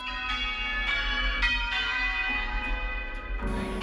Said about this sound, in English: bell comes round, you pull the tail